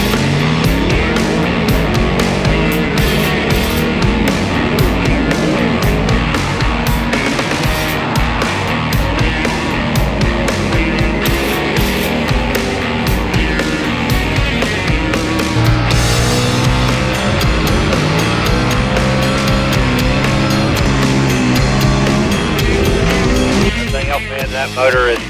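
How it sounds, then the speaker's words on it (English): A race car engine revs hard at full throttle around a track, loud and close with rising and falling pitch through gear changes and a brief tire squeal near the end. "That motor is singing coming through here"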